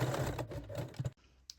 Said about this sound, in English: thread them through the ring and sew them in a place with a straight stitch